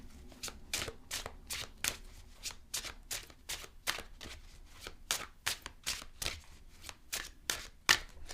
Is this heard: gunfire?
no